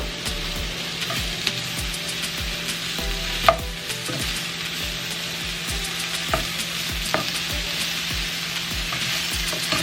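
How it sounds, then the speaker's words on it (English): Mushrooms fry in a pan with other breakfast ingredients, a constant close sizzle broken by occasional sharp crackles and stirring clatters. "these are going to continue to cook with the mushrooms in here"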